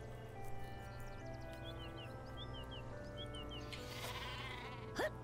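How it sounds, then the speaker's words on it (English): The super sheep in the video game Worms Revolution bleats, a couple of high, wavering baa calls over steady game music, with a sharp rising cry near the end. "Another super sheep."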